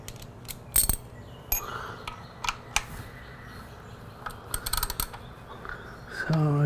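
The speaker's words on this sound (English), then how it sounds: "It's going to be a 12mm socket to take out the oil plug." Socket wrench ratcheting on the 12mm oil drain plug of a Honda CBR1000RR motorcycle, a series of close, sharp metallic clicks and clacks in uneven bursts, with a louder scrape near the end.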